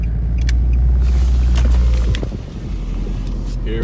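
A 2006 Nissan Altima engine idles with a misfire, a close, steady low rumble with uneven pulsing and a brief dip partway through.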